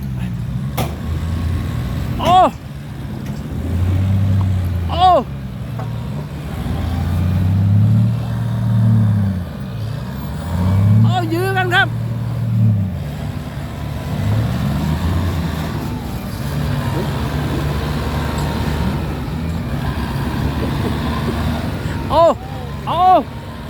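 Farm tractor engine labouring while bogged in mud after rain, with deep low rumbling surges that rise and fall across the clip, heard up close alongside voices talking over it.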